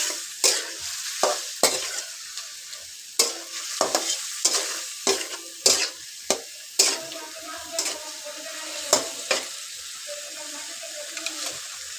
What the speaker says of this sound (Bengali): তারপর একসাথে মিশিয়ে নিয়ে কষা কষা করবো মাংস।